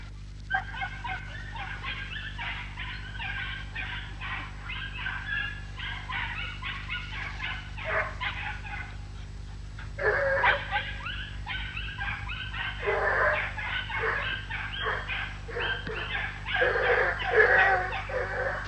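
Hunting dogs bay and yelp in rapid, overlapping bursts after finding a wild boar. The barking runs nearly continuously at mid distance and grows louder and more frantic toward the end, over a low steady hum.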